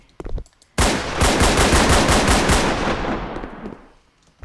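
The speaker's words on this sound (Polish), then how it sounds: "Shotgun." Shotgun fire in a Polywar video game: a few short sounds, then a loud, sustained burst of rapid repeated blasts that slowly fades out.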